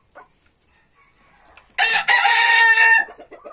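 A rooster gives one loud, close crow lasting about a second, preceded by faint soft clucks and followed by a few quieter trailing calls.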